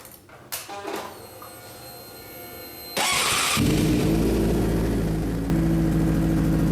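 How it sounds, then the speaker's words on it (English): A 2006–07 Suzuki GSX-R 600/750 motorcycle engine, fitted with a new stator and rectifier, cranks briefly and then catches, settling into a loud, steady idle up close with a slight rise in revs near the end. "I'm gonna start the bike"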